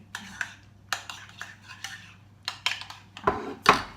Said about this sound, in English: Just stir it in.